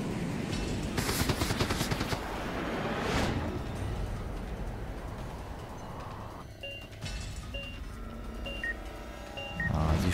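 An enemy drone in Resident Evil Revelations sprays gunfire in rapid bursts of crackling shots, followed by repeated electronic beeps and game ambience, with no talk.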